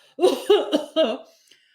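Several short, voiced bursts in quick succession sound like a cough or a throaty chuckle, close and fairly loud, then fading to quiet.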